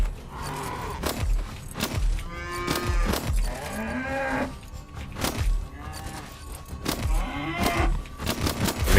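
Cattle moo repeatedly, several long drawn-out calls overlapping at close range, with thumps and rustling between them.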